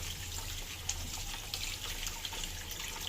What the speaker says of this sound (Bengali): এখন পুঁই শাকগুলাকে ধুয়ে নিব।